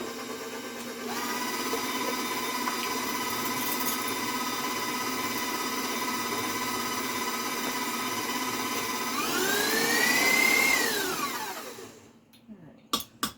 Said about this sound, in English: 2 is fine again when you're using a powerful mixer